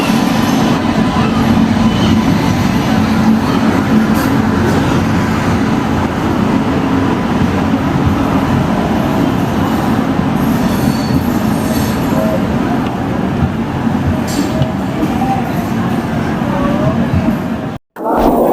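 The Tamil Nadu Express rolls into Bhopal Junction with a loud, continuous rumble of wheels on track and a faint squeal of metal, heard close by from on board, with a brief murmur of voices in the background.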